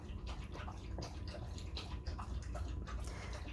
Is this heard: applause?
no